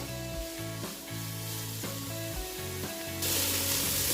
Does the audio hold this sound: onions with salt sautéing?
yes